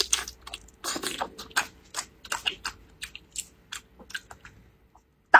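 Someone chewing pure fatty cured Chinese bacon (larou) with no lean meat, close and intimate: a steady series of soft, wet bites and squelchy chews in an irregular rhythm, alone, with a brief sharp clatter at the very end.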